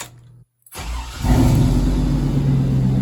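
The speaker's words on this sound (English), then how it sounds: "let's go ahead and start up the truck and see if it'll start right up" A 2001 Chevrolet Silverado truck engine cranks briefly after a short silence, catches and settles into a loud, steady idle close by, with no talking.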